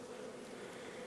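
Honey bees crowd a packed top super of a Cedar National hive, giving a steady, close, continuous buzzing hum with no pauses and no voices.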